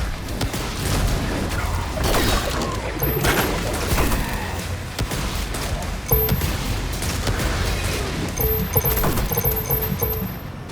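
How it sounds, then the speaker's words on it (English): Rocket launcher fire in the shooter DOOM: The Dark Ages, with repeated booming blasts and crunching impacts scattered across the stretch, mixed with other game effects and beeping alert tones. "Rocket launcher fires slow, projectiles exploded"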